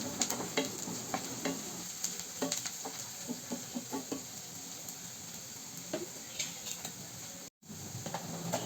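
Chopped onions fry in a third of a cup of oil, heard as a steady close sizzle turning light brown, with frequent scraping stir strokes and light ticks from the spoon, a brief dropout near the end.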